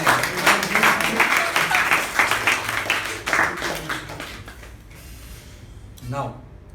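Audience at a Toastmasters meeting clapping steadily for about four seconds, then fading to a few scattered claps and a brief voice.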